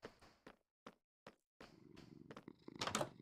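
A cat purrs in Minecraft, a soft low rumble after a few short isolated taps, faint and close, with no voices.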